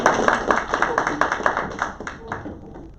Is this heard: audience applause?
yes